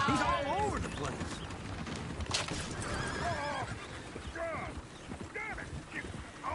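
Several horses in the video game Red Dead Redemption 2 whinny and neigh with rising, wavering calls, mixed with clip-clopping hooves and excited voices shouting over the commotion.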